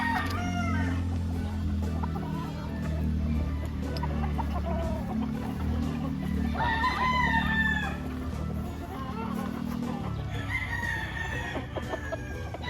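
Roundhead gamefowl roosters at a farm in Lipa, Batangas crow several times over a constant background of clucking and murmuring birds, the crows rising loudly at intervals, with no talking.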